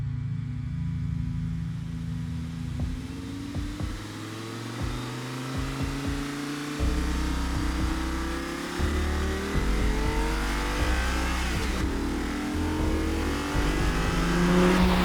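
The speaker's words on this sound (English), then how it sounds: "The Audi R8, a V10 behind my head, and a gated shifter in my hand." Audi R8 with a V10 engine mounted behind the cabin and a gated manual shifter, revving and changing gears from inside the car, a loud steady drone with rising pitch sweeps and sharp shift breaks, no talking.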